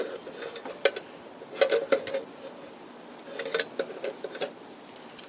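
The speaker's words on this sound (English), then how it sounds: "It might sound like I'm scratching the pan, but I'm not. I'm just, you know, it's a metal knife." A metal knife scraping and tapping against a pan while grilled cheese cooks, short bursts of clinking scrapes in irregular clusters, close and fairly quiet, with no talk.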